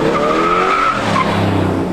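A 1969 Chevelle Yenko 427 muscle car drives past loudly, its V8 rumble rising and falling through two seconds of continuous, close engine noise with a tire-like squeal on top.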